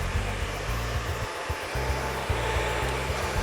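A handheld hair dryer blows steadily during a salon blow-out with round brushes, a loud, continuous airy roar with a low hum that briefly dips and wavers as the dryer moves.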